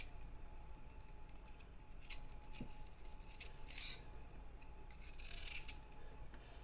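Sugarcane stalk having its outer skin peeled, faint close scraping and rasping strips with a few sharper tearing bursts, quiet and intermittent, no talk.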